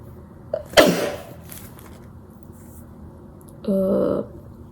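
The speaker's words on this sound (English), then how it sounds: "I need to sneeze." A single sharp sneeze bursts out near the start, followed later by a brief voiced sound, over a quiet indoor background.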